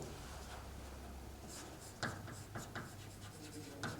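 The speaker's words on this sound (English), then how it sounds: "I will draw the schematic representations" Pen or chalk strokes of someone drawing a schematic diagram by hand, soft scratchy scraping with a few sharper taps, faint and close in a quiet room.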